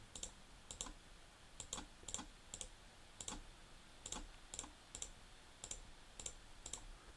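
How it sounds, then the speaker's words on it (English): Sharp clicks from a clicky computer mouse, arriving singly and in quick pairs at an irregular pace throughout, close up and fairly quiet, with no talking. "Apologies for my clicky mouse."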